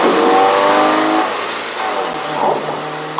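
A car in the video game Postal 4 revving and driving off, a loud engine surge that accelerates and then recedes, heard alone without talk.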